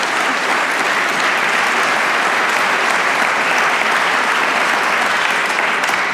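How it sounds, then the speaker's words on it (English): A large audience at a conference event claps in loud, dense, steady applause that fills the whole stretch without letup. "Give a great round of applause to Wellbeing Trust."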